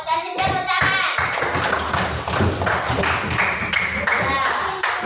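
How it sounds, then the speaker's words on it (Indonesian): A classroom of students claps for a classmate, a dense burst of hand claps that goes on for about five seconds, close and loud, with a few children's voices mixed in. "Kasih tepuk tangan."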